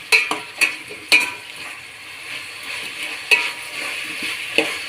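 Ginger garlic paste sizzles and fries in a hot pan, a constant bright hiss broken by a few sharp stirring scrapes of a spoon against the metal.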